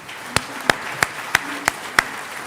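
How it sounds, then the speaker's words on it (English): Six separate, evenly spaced claps ring out in a reverberant hall as a sparse audience applauds conference panelists at an ocean governance session, with faint room murmur between them. "So I request you to give a round of applause to my great panelists."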